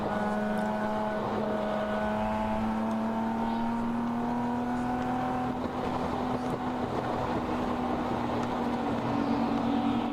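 Race car in a ChampCar endurance race at Watkins Glen, driver easing on throttle in fourth gear out of the bus stop chicane; a steady, loud engine drone rises gradually in pitch with continuous mechanical roar throughout.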